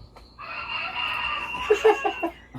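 A rooster crows once, a long strained call that rises and ends in a few choppy notes, loud and close.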